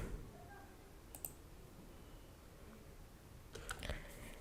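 Faint mouse clicks on a Windows PC during installation of the EA app come as a couple of soft, sharp taps over a quiet room hum.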